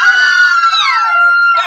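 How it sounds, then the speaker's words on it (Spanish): A studio audience of mothers at a Spanish-language TV talk show screams loudly and shrilly in a sustained, piercing chorus, close and dominant with no speech over it. "¡Pueden gritar, mamis!"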